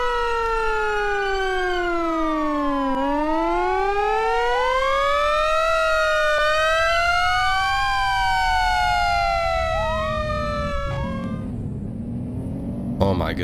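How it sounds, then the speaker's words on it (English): A fire truck siren in the Roblox video game wails loudly and continuously, its pitch sweeping up and down in long overlapping tones, close and dominant, with a few faint clunks near the end. "Oh, that fire truck is so loud."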